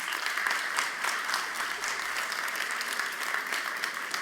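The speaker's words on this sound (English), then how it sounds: "Please, yeah, a warm round of applause for them." Steady applause from a live audience at a startup competition final round, welcoming the competition judges; dense clapping holds at an even level for the whole stretch with no voices over it.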